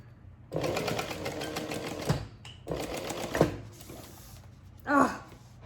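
Sewing machine top stitching a backpack, running in two bursts of rapid steady stitching with a short pause between, then a brief thump; close and clear.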